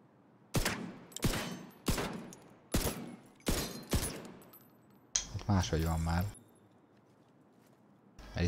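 Rapid bursts of video game gunfire, five loud close volleys spaced under a second apart, followed by a sharp mechanical clatter and then quiet.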